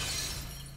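An eyeball shattering like glass in Elden Ring, one brief bright shatter that is faint and fades quickly, with no voices.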